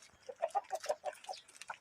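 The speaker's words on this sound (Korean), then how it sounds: "오랜만에 보는 닭들이죠?" A flock of farm chickens clucks while being fed, a quick run of about eight close, bright clucks in an even rhythm before trailing off.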